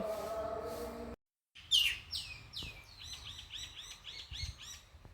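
Myna birds call outdoors with a quick run of bright chirps and whistled notes. The calls repeat close together after a brief gap, moderately near and clear over faint background noise.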